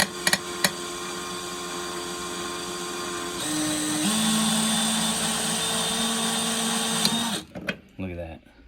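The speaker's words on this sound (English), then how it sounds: "So now, there's your screw that we drilled." An electric drill bores out a screw head during a bearing swap on a KR 6.5, producing a steady, high whining drone that shifts slightly in pitch for about seven seconds, then stops with a few clicks and clatters.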